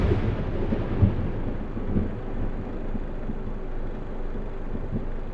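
A thunderstorm in the Euro Truck Simulator 2 truck-driving game brings a low, steady rumble of rain and distant thunder, with a couple of soft thumps. The rumble holds at an even, moderate level throughout.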